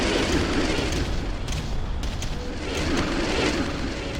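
Continuous rumbling explosion from an enemy structure being destroyed in the Ground Control strategy game, a loud, dense roar with scattered crackling bursts sustained throughout, no voices.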